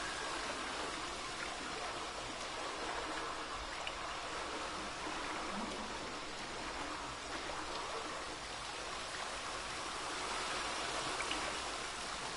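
A flowing stream in The Witcher 3 gives a steady, even rush of water that carries on unbroken throughout, with no voices over it.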